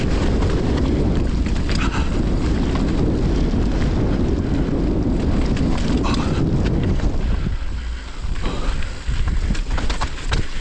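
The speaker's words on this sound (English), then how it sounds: "Hopefully it gets less windy as we get down." Strong wind roars and buffets the microphone on the Fort William World Cup mountain bike track on a wet day, loud and continuous with a brief lull near the end.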